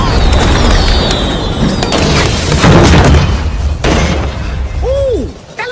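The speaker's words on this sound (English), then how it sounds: "That little blue van just blew up!" A little blue van explodes in an animated train-chase scene, giving a loud, sustained roaring blast with crashing debris and rumble that fills several seconds before tapering off, followed by a brief whooshing tone.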